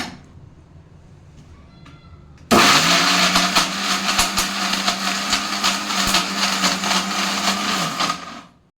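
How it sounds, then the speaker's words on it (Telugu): An electric mixer grinder coarsely grinds raw onion chutney with dried red chillies, tamarind, salt and cumin, kicking in abruptly to a loud, close, rattling whir that runs for about six seconds and then winds down. "ఇది ఇట్లా కచ్చాపచ్చగానే రుబ్బుకోవాలి మరీ మెత్తగా రుబ్బుకుంటే బాగుండదు అనమాట"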